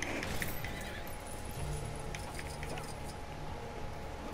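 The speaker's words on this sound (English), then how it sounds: "Riding a horse." A horse whinnies and gallops with clip-clop hoofbeats in the LEGO Marvel Super Heroes 2 video game, sustained over several seconds against game background sounds.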